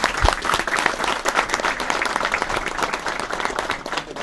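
Lively crowd applause at a sports club event, a close, loud, continuous patter of many hands with distinct individual claps throughout.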